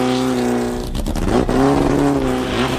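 A Porsche 550 Spider's all-aluminum engine revs loudly with rich harmonic tones, rising briefly, dipping, then climbing again in a throaty, sustained roar.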